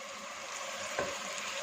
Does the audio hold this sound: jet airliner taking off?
no